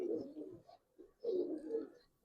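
Giribaz highflyer pigeon cooing softly nearby, two low throaty coo phrases separated by a brief pause, faint and alone.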